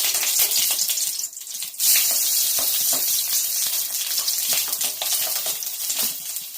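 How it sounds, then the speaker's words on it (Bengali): Brinjal patoori parcels wrapped in banana leaf sizzle and crackle in a hot pan of mustard oil, a dense, continuous, close frying hiss with scattered pops and no voices. "আমার কড়া গরম হয়ে গিয়েছে, তো আমি এখানে সর্ষের তেল দিয়ে দিয়েছি। তো এইগুলো আমি আস্তে আস্তে ছেড়ে দেব।"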